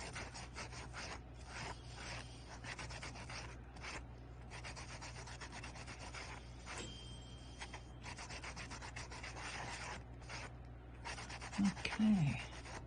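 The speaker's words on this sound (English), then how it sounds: "So let me keep sanding," Polymer clay chevron beads are sanded by hand, producing close, quiet, continuous rubbing and scraping strokes in a steady back-and-forth rhythm, with a short voiced murmur near the end.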